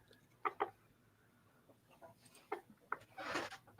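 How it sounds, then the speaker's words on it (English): A chicken clucks faintly in short, spaced bursts over a quiet background, with a slightly louder, rougher call near the end; no talk. "That is a whole ass chicken."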